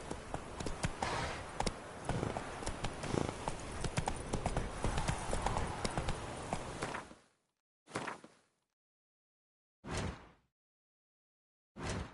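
Horse hooves clip-clop in a rapid, close stream for about seven seconds in The Witcher 3, then fall silent except for three short, separate bursts of hoofbeats.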